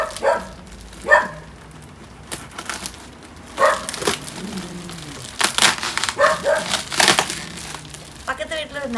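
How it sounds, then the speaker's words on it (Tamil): A neighbour's dog barks from next door in a home setting: several short, sharp barks come at irregular intervals, mixed with crinkling and rustling nearby. "பக்கத்து வீட்டில் ஒரு நாய் இருக்கு"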